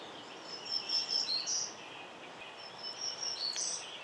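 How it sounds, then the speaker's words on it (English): Black-throated green warbler singing, two high, thin, buzzy phrases of repeated notes ending in a slurred warble, clear and moderately distant against a quiet outdoor background. "The black-throated green warbler is another herald of May."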